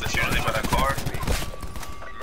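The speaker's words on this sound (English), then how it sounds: "There's too much gunfire around here." Rapid bursts of gunfire in the Call of Duty map Nuketown crackle in quick succession, dense and fairly loud, with a faint steady tone lingering underneath.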